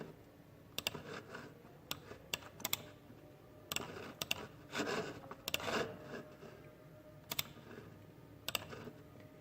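Keys clatter on a computer keyboard in irregular bursts as a name is entered into a WordPress plugin search, with sharp isolated key taps between denser runs, close and moderately quiet.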